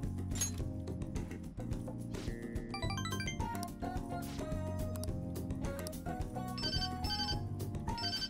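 Melodic phone ringtone from the video game Persona 5 Royal, a bright tinkling electronic tune over a steady low backing beat, repeating phrases played at moderate volume throughout.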